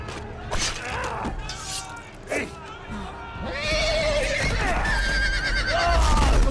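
Horses in the Game of Thrones Telltale video game give several loud whinnies and neighs among clattering, creaking game action, with rumbling noise building through the second half.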